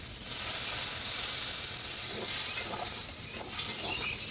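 Shrimp and thankuni greens cooking in a hot pan hiss and sizzle steadily as water goes in, a loud broadband steam rush with a few brief surges, no talking.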